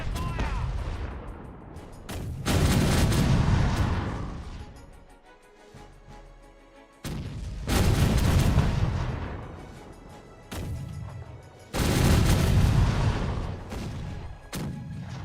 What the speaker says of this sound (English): so they're still shooting at the lighthouse battery.